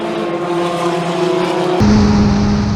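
Historic Formula Ford race cars screaming past at Silverstone, a loud, high-revving engine note that holds steady and then drops in pitch as the car passes close by.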